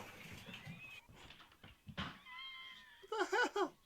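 A cat dressed in a Santa costume lets out a clear, fairly close meow near the end, following a few high whining cries and brief background noises.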